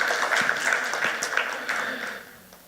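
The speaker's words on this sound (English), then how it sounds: "Round of applause, ladies and gentlemen." A crowd claps in a warm, scattered round of applause that gradually fades out.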